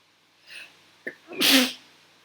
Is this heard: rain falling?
no